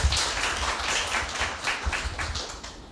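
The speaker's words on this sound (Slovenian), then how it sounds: "Aplavz, ja." A small audience at a press conference claps in a brief, scattered round of applause, individual hand claps distinct and close, fading toward the end.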